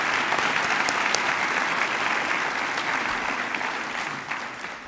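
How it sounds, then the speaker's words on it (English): Sustained applause from a graduation audience at an early college high school ceremony, a dense steady wash of clapping that holds for the whole stretch and eases slightly toward the end. "Let's give another round of applause to Kimmy."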